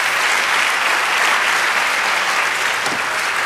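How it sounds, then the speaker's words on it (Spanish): A church congregation gives loud, sustained applause, a thick continuous roar of many clapping hands heard alone for the whole stretch. "Dale aplauso al Señor."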